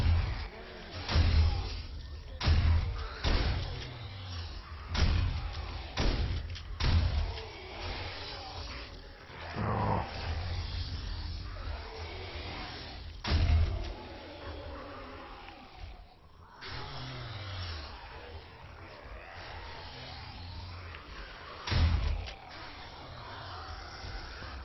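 Zombie horde in 7 Days to Die Alpha 16 battering a player's base, with repeated heavy thuds and crashes that come irregularly, some louder and closer, over a low background rumble.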